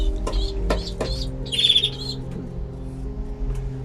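Kirkuk Arab breed pigeons in a loft, soft low cooing and throaty calls with a few brief higher chirps and wing or perch knocks, close and fairly quiet against a steady low background hum.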